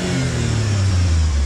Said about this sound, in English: We'll rev it up a little bit.